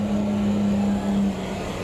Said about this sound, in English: the engine sounds I really like on pretty much every car